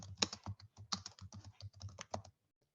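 Quick, light keystrokes tap on a Chromebook keyboard in a quiet run of about two seconds, then the typing stops.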